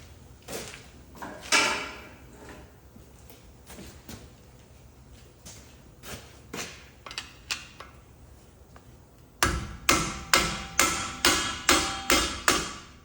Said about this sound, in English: so now I'm going to use a hammer and tap